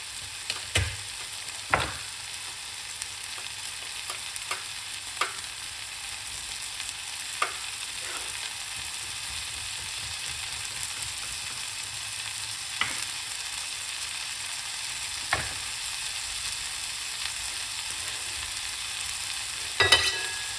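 A pot of food for a lentil couscous dish frying and being stirred, a constant soft sizzle heard for about twenty seconds, broken by scattered sharp clinks and scrapes of the spoon against the pot.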